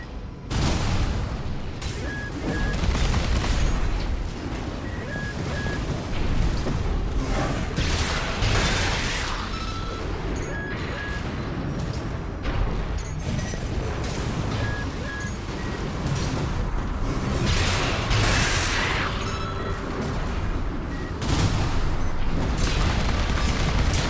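Mech weapons and explosions from Armored Core VI keep up a dense, continuous barrage of booms, firing bursts and mechanical clatter, loud throughout with brief high electronic tones cutting through.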